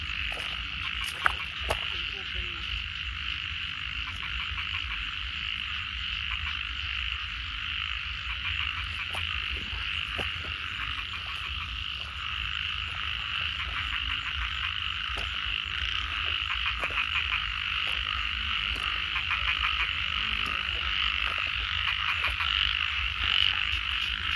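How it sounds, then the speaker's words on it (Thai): Frogs croak steadily through a rainy night scene, a dense continuous chorus with repeated calls layered over a constant wet background hiss, fairly loud and close throughout. "เสียงเขียด"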